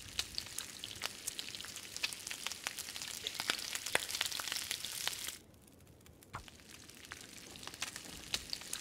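Food sizzles over a campfire in The Long Dark, a constant crackling fry dotted with sharp pops. It drops to near quiet for about a second before the sizzle resumes, with no talking.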